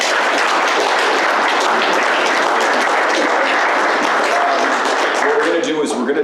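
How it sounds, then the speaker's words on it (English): Sustained, loud applause from an audience after a debate on Canadian family law reform, clapping filling the room evenly, with a voice starting to speak near the end. "A round of applause for both Mark and Ryan"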